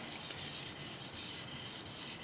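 A knife is stroked across a 1000 grit whetstone in rhythmic rasping passes, about six even strokes, close and quiet with no talk.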